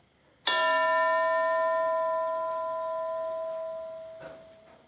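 A single bright bell strike rings out close and loud, its clear tone sustaining and slowly fading over several seconds before a faint knock near the end.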